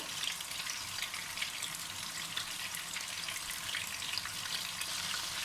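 Shami kabab frying in oil in a kadai, a steady close hiss and crackle of sizzling oil with no talking.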